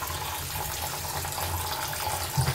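Liquid pours and splashes steadily into a strainer or sink as curdled milk is drained to separate chhena in a home kitchen, a continuous watery gush with no talk.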